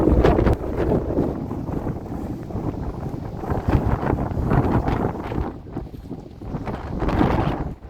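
Steady, blustery wind buffets the microphone at the Oldman River Dam campsite in Alberta, a constant low roar with gusts rising and falling throughout and no voices.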